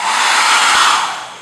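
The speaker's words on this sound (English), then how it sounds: "Of course, I like to speed it up a little bit with my hairdryer." Hair dryer blowing steadily and loudly up close, drying a thin coat of Mod Podge sealer on craft foam armor, a continuous airy roar that tapers slightly at the end.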